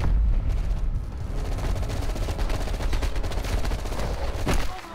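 Loud, sustained gunfire during a firefight in Call of Duty Black Ops Cold War, rapid overlapping bursts and automatic fire close by that stay dense throughout, ending in one sharp heavy shot.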